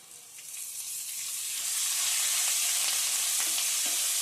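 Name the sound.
curry leaves sizzling in hot tempering oil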